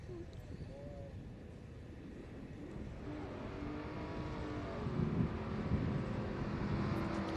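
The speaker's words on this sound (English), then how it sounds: "Another smoky burnout off the line." Holden HJ Kingswood with a 6-litre V8 doing a smoky burnout off the start line at a grassroots historic sprint meet, a loud sustained engine roar that builds and swells, with voices heard underneath.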